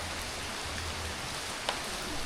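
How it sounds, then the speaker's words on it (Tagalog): Rain falling on potted plants outdoors, including calamansi, a steady soft hiss of raindrops with a faint single drip, quiet and continuous with no talk. "Sprinkle siya ng water ng ulan."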